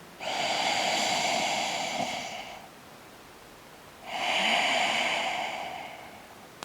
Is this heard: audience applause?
no